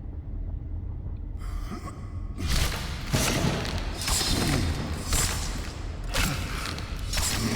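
Heavy impact sounds in the Stasis video game as an object is smashed to bits with a gun: repeated loud thuds and crunching bursts over a dark droning ambience, several blows in close succession.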